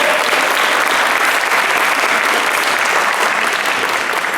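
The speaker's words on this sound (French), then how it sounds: "les applaudissements bien fort!" Loud, dense applause from an audience at a Quebec City hackathon presentation in 2016 fills the whole stretch steadily and close, with no speech over it.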